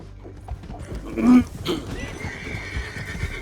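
A horse in Red Dead Redemption 2 whinnies loudly once with a shrill, wavering call, amid clip-clopping hooves and mechanical clicking in the background.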